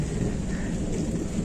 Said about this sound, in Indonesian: sekarang cuacanya lagi ada petir